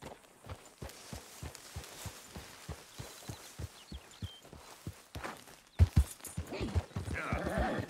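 Horse hooves clip-clop at a steady walking rhythm in Red Dead Redemption 2, a regular series of close, moderate knocks, with a louder burst of activity and a possible whinny near the end and talking over much of it.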